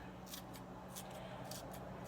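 A few quiet, crisp snips of scissors cutting through green onion, spaced irregularly over a steady low hum.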